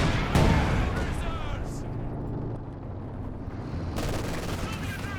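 A Maxim machine gun fires in a Company of Heroes 2 battle amid heavy gunfire and explosions, loud and continuous, with a sharp blast near the start and dense firing returning near the end.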